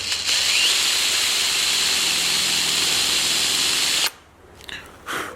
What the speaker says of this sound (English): so I've got a drill bit the same size as the head of the screw